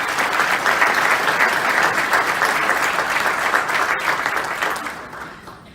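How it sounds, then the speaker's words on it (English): An audience applauds school teams at a middle school design competition event, a dense sustained burst of clapping from a full room that holds steady, then tapers off near the end. "So let's give all of them a round of applause."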